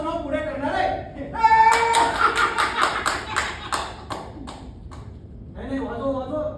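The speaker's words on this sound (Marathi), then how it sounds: "अजून मोठ्याने टाळ्या वाजवा, सगळ्यांनी वाजवा" Audience applause at a theatre festival, a dense burst of many hands clapping that swells, then fades under someone speaking to the crowd.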